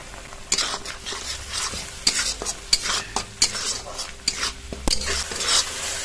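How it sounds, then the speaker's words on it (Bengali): Whole cumin and a ground spice paste frying in hot oil in a pan, a close sizzle broken by repeated sharp scrapes and knocks of a spatula against the metal. "গরম তেলে গোটা জিরে দিয়ে দেবো।"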